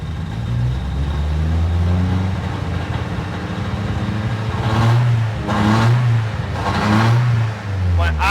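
A built 500-horsepower engine in a 1979 Toyota Corolla runs loud and close in a garage with the door open, idling roughly before several sharp revving bursts climb and fall.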